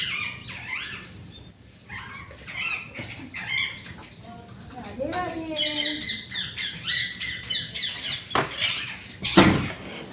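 A pet bird called Mithu chirps, whistles and makes rapid, varied calls up close in a home, with a voice speaking alongside and occasional clatter.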